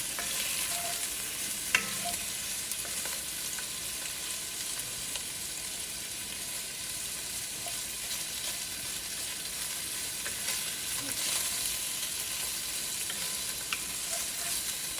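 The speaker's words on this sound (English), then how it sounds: "once we get this sausage browned some" Sliced Italian sausage browning in a pot for a one-pot pasta with peppers, onions and garlic, sizzling in a steady close crackle with occasional pops and a faint stir, no voices.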